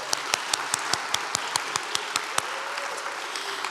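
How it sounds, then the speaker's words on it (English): An audience applauds award recipients at a university spirit program ceremony, a broad roar of clapping with a crisp, regular beat of louder claps running through the first half before thinning out. "Let's give all of our award recipients one more round of applause."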